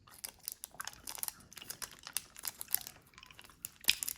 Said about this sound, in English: There's just something about that little clack, the clickety clack against the teeth, the sucking sounds.